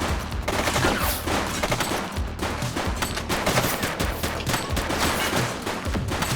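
Dense, continuous video-game gunfire fills a police shootout against gang members, with rapid overlapping shots and bursts that stay loud and close throughout and leave no pauses or voices.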